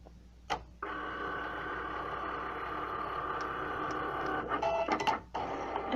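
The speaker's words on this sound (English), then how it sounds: "So we're just going to score and cut the bottom piece here quickly" Cricut cutting machine scoring card, a steady close mechanical whir and buzz running for about five seconds, with a few faint ticks and clicks over it.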